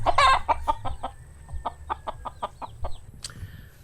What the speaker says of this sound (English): that is Archie's chicken saying welcome to a new day